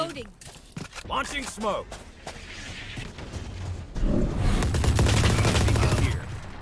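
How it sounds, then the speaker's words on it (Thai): Machine gun fire in the shooter game Valorant breaks out as a sustained, dense rattle after a voice speaks, with faint shots and footsteps before it. "โอ้ปืนกล"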